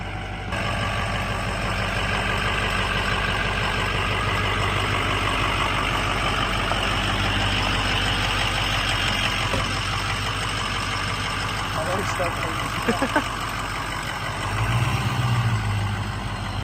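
A white pickup truck idles steadily in a shop garage, its low engine rumble constant and close for the whole stretch, with a few brief knocks near the end.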